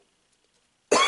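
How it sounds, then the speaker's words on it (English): One short, sharp cough erupts abruptly at the very end after near silence, close to the microphone, from someone opening a Yu-Gi-Oh Raging Tempest booster box. "I can't stop coughing"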